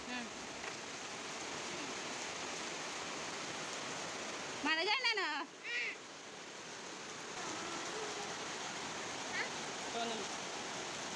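Steady rain falls after a hot spell, making a soft, even hiss throughout. About halfway through, a voice briefly rises over it.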